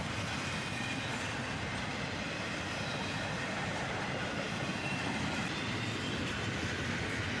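A freight train carrying Amazon containers rolls past in a steady, continuous rumble with faint rail clatter. The noise holds an even level throughout, with no voices or horn.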